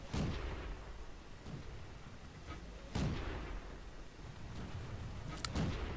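Tank cannon shots from an M3 Light in a video game: two or three sharp, booming reports spaced a few seconds apart, each with a rumbling tail, heard fairly faint over a low battlefield background.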